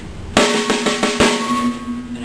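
Drum rhythm played with double stroke roll accents, a few sharp accented hits at a steady pulse ringing out closely over a sustained resonant drum tone, no voices.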